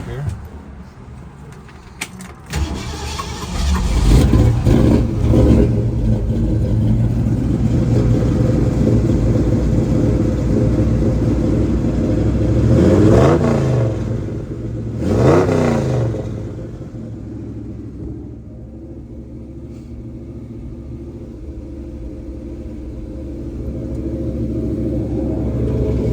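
A 1975 Ford Bronco engine cranks, catches and settles into a steady, rumbling idle up close, with two rising revs midway before it drops back to a quieter idle.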